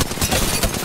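A brief, dense burst of rapid gunfire from the Apex Legends video game, loud and close in a continuous rattle of overlapping shots.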